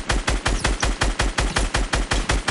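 Rapid automatic gunfire from a weapon in the Fortnite video game, a steady run of about a dozen evenly spaced loud shots close up, with no talking.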